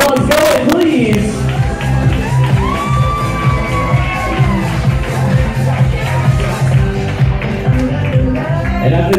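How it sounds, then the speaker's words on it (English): Guests at a Long Island wedding reception at The View in Oakdale, New York, applaud and cheer loudly and continuously, with whoops and shouts, over a pounding DJ music track. "Keep that round of applause going, please!"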